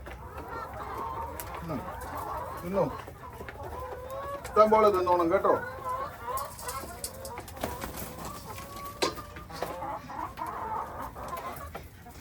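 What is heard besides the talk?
hens clucking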